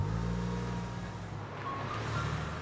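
A Porsche 911 sports car runs steadily with a low engine drone, moderately loud and continuous throughout, with no voices over it.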